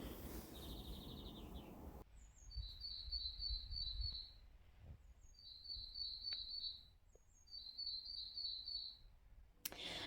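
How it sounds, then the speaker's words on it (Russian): Spring birdsong in the countryside on a frosty morning, with repeated bright trilling phrases from a songbird at moderate distance, separated by short pauses, over a soft outdoor background with no talking. "Вы только послушайте, как поют птицы."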